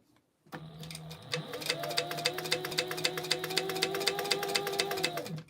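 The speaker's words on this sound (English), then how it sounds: "I'm just going to continue my top stitch, but I'm going to stitch down that lining to my exterior." A sewing machine top stitches a bag's lining down to its exterior, running in a steady rapid rhythm of stitches after a brief silence, close and fairly quiet throughout.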